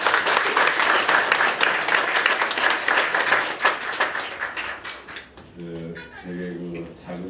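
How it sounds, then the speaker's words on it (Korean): A church congregation applauding at a world mission forum service, a dense burst of clapping that fades out, followed by a voice speaking alone at the end. "박수 안 나옵니까?"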